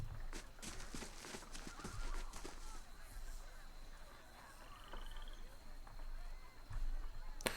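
Stabled horses in the video game Pillars of Eternity give intermittent nearby whinnies and scattered hoof clops against a steady ambient bed with a thin high tone, plus occasional bird-like chirps across the scene.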